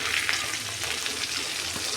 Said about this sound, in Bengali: তেল গরম হয়ে গেছে, মাছটা আমি ভেজে নিচ্ছি।